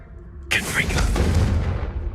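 An explosive Confringo spell is cast in the Hogwarts Legacy video game: a sudden loud burst erupts, then a sustained rumbling blast rolls on and slowly fades.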